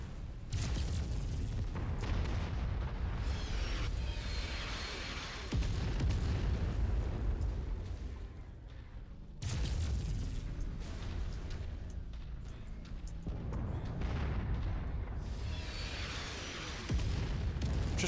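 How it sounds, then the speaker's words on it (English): Repeated heavy artillery explosions in a sci-fi shooter game while fleeing toward a drop ship, with loud booming blasts rolling one after another and dense, sustained rumble throughout. "These artillery guns are going to kill us."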